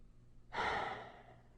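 One deep breath from Sonic in an animated scene, a single close, breathy exhalation that rises suddenly and fades over about a second, heard on its own.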